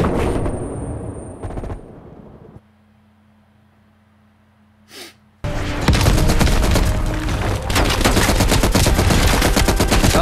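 Gunfire rings out in the Call of Duty Cold War campaign: an opening stretch of shots, then a near-silent gap with a brief whoosh, then dense, loud, rapid automatic fire that continues to the end.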